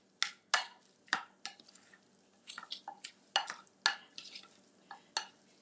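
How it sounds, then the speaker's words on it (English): A salad with dressing and sesame seeds is stirred in a bowl, giving a quiet, irregular series of close wet scrapes and clicks, no voices. "So let's stir it up"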